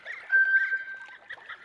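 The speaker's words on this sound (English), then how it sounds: "I was like, I know I hear ducks." Ducks calling overhead in the hunting video game The Hunter: Call of the Wild, a run of nasal honking quacks that swells then fades, moderately loud, with no speech.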